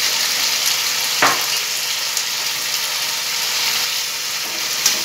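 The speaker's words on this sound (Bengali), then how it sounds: "সয়াবিনগুলো যে ভাজা রয়েছে, যে এতক্ষণ যে ভাজলাম, সেগুলোকে এখন আমি এর মধ্যে ছেড়ে দিলাম, একটু নাড়বো" Fried soybeans tipped into a chili gravy in a pan, a steady sizzle and hiss throughout with a brief clatter as they go in, loud and close with no talk.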